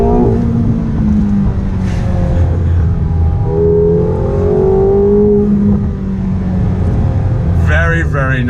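A 2019 McLaren 720S engine pulls hard under throttle, rising through revs with quick upshifts, loud and close. Someone talks over the engine throughout.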